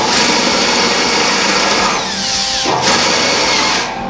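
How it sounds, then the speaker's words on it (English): A power drill whines steadily as it bites into the first layer of sheet metal on a car quarter panel, its pitch sweeping and dropping near the end, loud and close. "You just try and drill through the first layer of metal"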